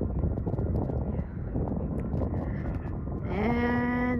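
A jet airliner flies over Marina Park in San Leandro, its steady broadband roar building to a loud, close pass near the end, with a rising engine whine and tonal hum. People converse in the background throughout.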